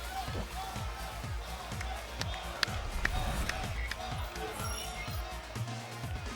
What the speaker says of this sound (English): Hometown crowd breaking into a chant.